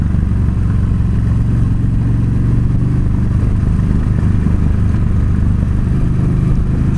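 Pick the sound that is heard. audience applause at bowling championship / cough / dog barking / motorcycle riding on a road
motorcycle riding on a road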